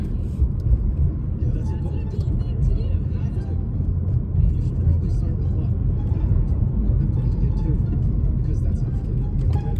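Dense road traffic at rush hour on a Friday evening, a steady broad rumble of passing cars and vehicles that holds at one level throughout, heard alone without talk.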